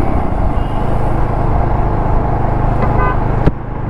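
Jawa 42 Bobber motorcycle pulling away hard, a loud, steady engine drone filling the clip, with a sharp knock near the end as the sound briefly dips.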